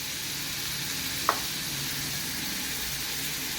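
Chopped onion sautéing in a pan for Mumbai Saraswat-style bombil bhujane gives a constant, even sizzling hiss, broken once by a single sharp click.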